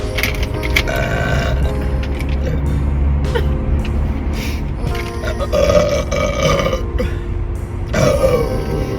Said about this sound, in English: They're not just burps.